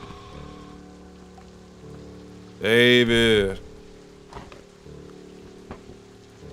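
Steady rain falls throughout beneath a low tonal background hum, broken midway by a brief, loud burst of voice, with faint taps and knocks scattered later.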